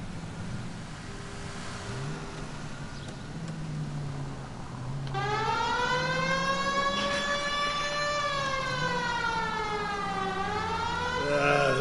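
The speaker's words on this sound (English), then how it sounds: "Turn on the siren and pull her over." A police car siren in the LA Noire video game winds up over a running car engine, starting faint and then rising into a loud, steady wailing tone that sweeps up and down.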